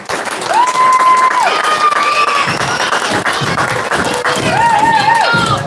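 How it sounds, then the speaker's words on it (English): Audience applause and cheering at a Sackville Flyers hockey awards banquet for a player named Casey, clapping mixed with rising whoops and shouts from the crowd. "Round of applause for Casey."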